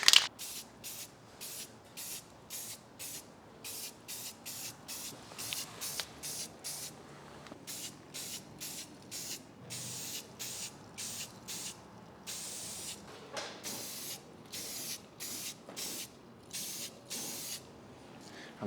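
Repeated short hisses from a spray can lay a second coat of paint onto a rusty panel, rhythmic close bursts with brief gaps between them, quiet overall and without talk.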